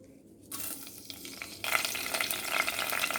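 Curry leaves dropped into hot oil in a pressure cooker on a stove, giving a sudden loud crackling sizzle that jumps up again partway through and keeps spitting steadily, close by with no voices.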